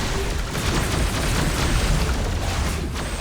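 Rocket Raccoon's big gun fires in Marvel Heroes Omega as a dense, continuous roar of booming blasts and bursts, loud and unbroken throughout.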